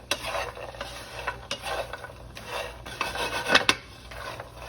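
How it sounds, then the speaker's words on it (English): Pecans being stirred with spices in a bowl, giving a soft, irregular scraping and rubbing with occasional light clicks of nuts and utensil, close and quiet, with no talk. "you're just gonna mix it until all the pecans are coated"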